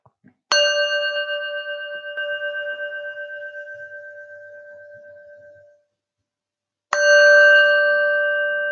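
Meditation bell struck twice: a clear, close, bright ring that decays slowly over about five seconds with a gentle beating shimmer, then a pause and a second strike, alone in silence.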